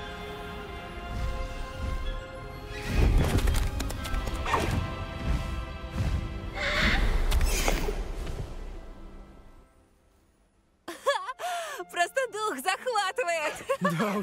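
A hippogriff in the Hogwarts Legacy video game stamps and thuds with heavy hooves, then lets out several sharp, rising cries that stand out clearly after a short lull.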